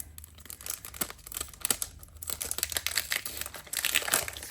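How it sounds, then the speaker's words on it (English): Plastic packaging rustles and crinkles continuously as vellum ephemera from a scrapbooking collection is pulled out, a close, busy stream of crackling with brief louder crunches. "Excuse the rustling while I get this out of the pack."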